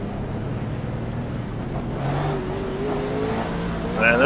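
NASCAR Monster Energy Cup Chevy SS race cars in the iRacing sim, a steady wash of engine drone from a crowded field with rising whine tones near the end, no talk over it.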